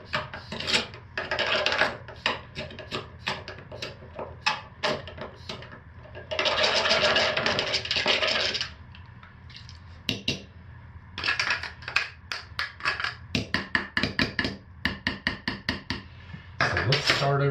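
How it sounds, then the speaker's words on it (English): Colorants being stirred into fragrance oil for hot process soap, heard as a run of rapid scraping and clinking strokes against a container, in bursts with brief pauses between. "So I'm dispersing my colorants in the fragrance oil"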